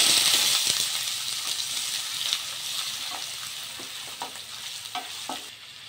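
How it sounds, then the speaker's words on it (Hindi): Two medium onions fry with cumin seeds in hot oil and ghee, a close, steady sizzle with light stirring scrapes and clicks throughout, no voices, while restaurant-style matar paneer is made. "अब हम प्याज को अच्छे से भूनेंगे।"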